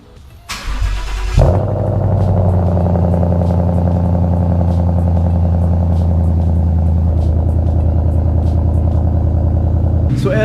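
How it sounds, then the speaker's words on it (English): A 2015 Ford Mustang GT with full exhaust cold-starts: a starter whir, then a loud bark as the engine catches and settles into a steady, deep, rumbling high idle that holds close and loud to the end. "But let's get this cold start going."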